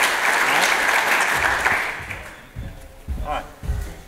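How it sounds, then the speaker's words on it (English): An audience at a Lone Star College forum bursts into loud applause that fades out over a few seconds, with scattered claps and voices trailing off at the end. "let's give a round of applause from everybody from Lone Star College"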